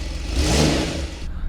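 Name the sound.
Porsche 911 Turbo S engine cold start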